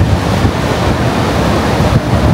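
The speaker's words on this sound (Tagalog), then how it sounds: "ayan na ang hangin na guys" Loud, roaring typhoon wind gusts batter the microphone continuously, a dense rushing noise with no voices.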